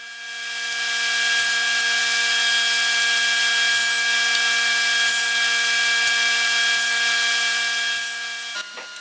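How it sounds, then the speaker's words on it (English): Steady high-pitched whine of a table saw running through wooden coffee table aprons to cut tenon shoulders, a continuous loud drone with faint ticks, winding down at the very end. "The first thing I'll do is create a shoulder at the table saw right to my layout lines."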